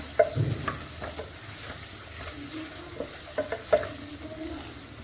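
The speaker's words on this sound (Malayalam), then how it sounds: "ഇഞ്ചി വെളുത്തുള്ളിൻ്റെ പച്ചമണം ഒന്ന് പോകുന്നത് വരെ ഒന്ന് വഴറ്റിയെടുക്കാം." Ginger and garlic are sautéed in a pan, a quiet, steady sizzle broken by soft scrapes and clinks as a utensil stirs them.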